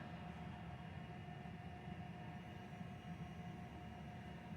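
A Dremel rotary tool runs steadily during dog training: a faint, continuous motor whine and hum that holds without a break, with no speech.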